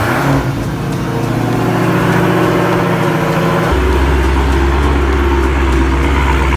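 A Dodge Hellcat's engine revs hard, then drops into a deep, steady low rumble as the car is moved in a garage, loud and close with no talk.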